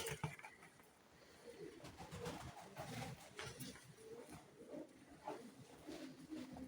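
Pigeons coo softly and repeatedly, several birds overlapping in low throaty murmurs, quiet and close, with faint rustling around them.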